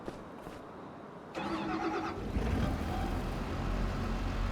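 Tractor engine in Farming Simulator 25 cranking and catching, then settling into a steady, close rumbling idle after a short quiet start.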